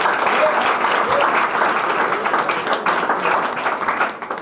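Loud, close clapping from an audience at a film promotion event in an academy, a thick sustained burst of many hands with a few sharper claps standing out near the end.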